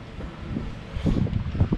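Gusty wind of 10 to 12 knots buffets the microphone in low, rumbling bursts, rising and falling over a couple of seconds, in a harbour in Tenerife.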